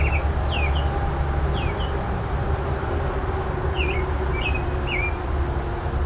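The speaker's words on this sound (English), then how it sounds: "Trying to find the bird." Songbird singing outdoors in a steady background hum: short, high chirping phrases repeat in small clusters across several seconds, moderately close and clear, with no talk.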